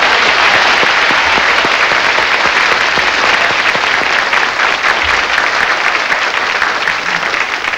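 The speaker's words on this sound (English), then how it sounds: "I think you deserve one terrific round of applause." Studio audience at a television game show giving a winning contestant a big round of applause, loud, dense and continuous clapping that holds at full strength throughout before easing slightly at the end.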